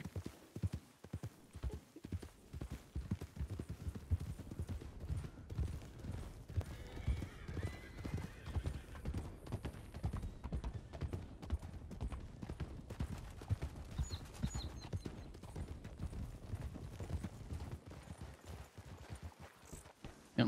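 Horses in the Red Dead video game clip-clop steadily and neigh nearby, a repeated hoof rhythm running through the whole stretch with occasional whinnies.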